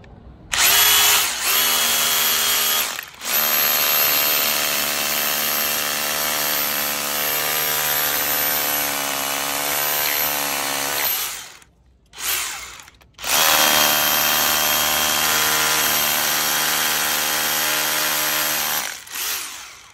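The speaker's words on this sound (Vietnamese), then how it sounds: "Đây mình đang bật ở chế độ khoan đục nè." Hilti drill with a four-flute bit hammer-drilling into a concrete block, loud and close, with a steady harmonic whine and rattling impact noise in two long bursts separated by a short pause.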